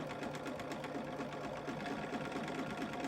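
Sewing machine fitted with a free motion foot stitching yarn onto fabric, a steady, fast, continuous mechanical whir with rapid needle chatter, close and loud throughout with no talking.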